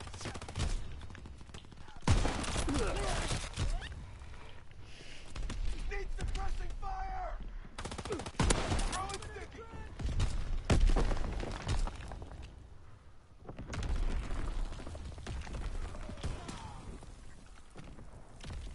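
Rapid bursts of shotgun and other gunfire in a WWII video game, loud and repeated in clusters, mixed with footsteps and game sounds and overlapping talk.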